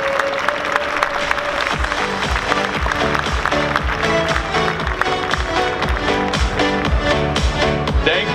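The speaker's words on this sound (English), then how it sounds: "Huge round of applause for Yayo Cosplay" A cosplay contest audience at DreamHack 2022 gives a contestant dressed as Link from The Legend of Zelda a sustained round of dense applause, crowd clapping loud and continuous throughout.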